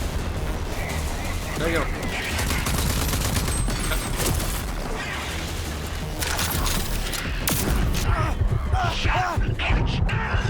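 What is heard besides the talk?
gunfire in a video game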